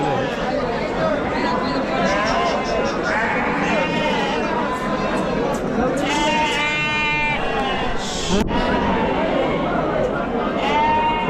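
Many sheep bleating at a large sheep and goat livestock market in Chakan, Maharashtra, overlapping calls near and far over a steady crowd murmur and people talking.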